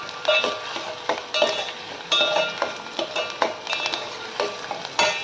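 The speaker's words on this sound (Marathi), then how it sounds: "कांदा आपल्याला चांगला लाल होईपर्यंत परतून घ्यायचा" Onion sautéed in a pan until reddish-brown for a spicy Malvani-style dried-fish dish, with a steady sizzle and repeated scraping stirs and clinks of a utensil against the pan, no talking.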